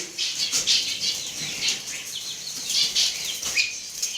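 Diamond doves and zebra finches in an aviary flap their wings in repeated quick flurries, close and fairly loud, with faint high chirps mixed in and no talking.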